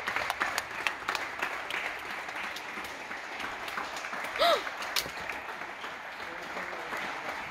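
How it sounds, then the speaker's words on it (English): Neighbors clap at 8 o'clock during quarantine, a steady distant patter of many hands from outside that continues throughout, with a brief whistle partway through. "Oh my god, our neighbors are clapping too."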